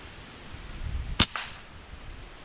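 A single sharp crack from an FX Dreamline .22 air rifle firing a JSB pellet outdoors while controlling grey squirrels, close and brief, followed by a faint thud against quiet background.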